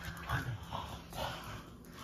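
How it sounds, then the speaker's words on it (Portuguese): A pug gives a few soft whimpers and small yips, close by but faint, in short bursts over a quiet background. "Você é um cachorrinho. Um pugzinho."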